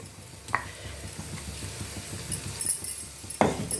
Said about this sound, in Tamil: இப்போ இதை வதங்கட்டும்